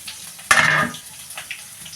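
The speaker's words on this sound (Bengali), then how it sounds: "পাঁচফোড়নটা গরম হয়ে গেছে, এর ভেতরে দিয়ে দিলাম আমি একটা কুচনো পেঁয়াজ" Chopped onion dropped into hot oil with panch phoron, giving a sudden loud sizzle burst that settles into a steady crackling fry with small pops, close up and with no talking.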